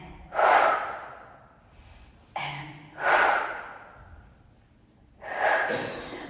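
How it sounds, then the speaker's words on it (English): Forceful breaths during a Pilates workout come as three separate bursts spaced about two and a half seconds apart, each a breathy rush that fades out, fairly close and with no talking. "notice I'm exhaling when my knee comes forward"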